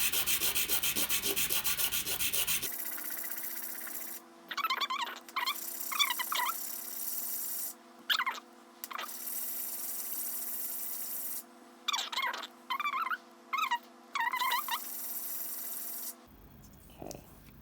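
Sanding a thin handmade silver charm by hand, with short bursts of rubbing and rasping strokes in quick runs separated by pauses, close and fairly quiet, with no talking.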